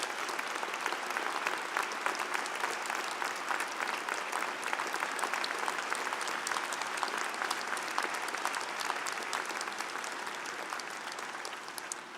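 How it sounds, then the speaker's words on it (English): Sustained applause from a large convocation audience for new university graduates, an even wash of many hands clapping at a moderate distance that holds steady throughout and eases slightly at the end. "Let's give a big round of applause to our graduates."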